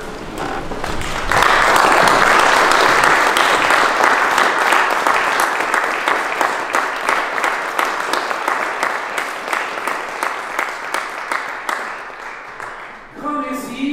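A church congregation at a Sunday service in Pays-d'Enhaut applauds a 100-year-old man, a loud sustained wash of clapping that slowly thins into distinct rhythmic claps and fades out near the end.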